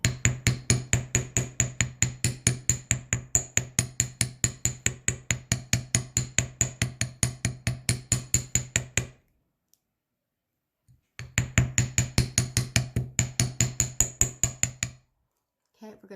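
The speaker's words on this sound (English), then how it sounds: "Okay, we're hammering it now, and we will hammer it in another stage again." Rapid, steady taps of a hammer on wire leaf earrings against an anvil, a long run of close metallic clicks, a two-second pause, then another quick burst of taps.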